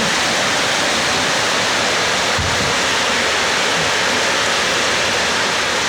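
Heavy rain pours down steadily on a roof with exposed purlins, rainwater leaking through inside; a loud, unbroken wash of noise with one faint low knock midway.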